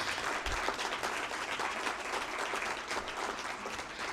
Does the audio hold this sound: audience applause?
yes